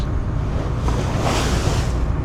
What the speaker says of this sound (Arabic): شوفوا الموج قد ايه عالي اساسا.